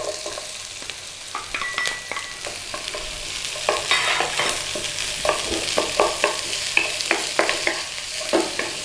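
Kale stalks and onion frying in a pan, a bright continuous sizzle growing busier with rhythmic stirring scrapes and clatters in the second half, close and without talk.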